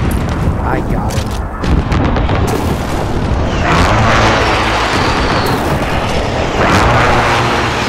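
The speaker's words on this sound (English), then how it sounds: "Precision airstrike on the way." Precision airstrike blasts in a combat video game pound near a bridge, a continuous loud run of rumbling booms and crackling bursts layered with voices talking throughout.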